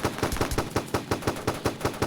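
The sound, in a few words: pistol gunshots in the FPS video game Gun Ground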